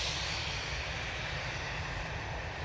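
A Star Alliance airliner departing Manchester Airport for Brussels produces a steady, loud roar of jet engines that fills the whole stretch without a break and with no voices.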